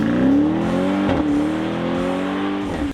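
A 2020 BMW X7 M50i SUV accelerating hard, engine note climbing steadily in pitch through a long pull with a brief shift-like dip partway, loud and close, ending abruptly.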